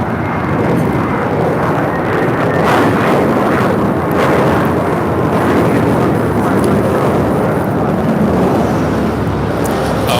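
A JetBlue Airbus airliner at LAX gives a loud, steady roar that fills the whole stretch, with a faint voice in the background.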